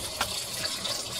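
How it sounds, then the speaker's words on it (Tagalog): Water pours into a Samsung WA60H4000SG top-load washing machine during its fill cycle, a steady broadband rush with a faint splash near the start and no talking. "Pwede siyang buksan habang naglalagay siya ng tubig."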